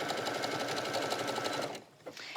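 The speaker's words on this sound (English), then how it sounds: "So here's just a simple zigzag top stitch on the neckline." A sewing machine runs a steady, fast zigzag top stitch along a t-shirt neckline for a child's shirt, chattering evenly and close by, then stops abruptly near the end, leaving only faint room noise.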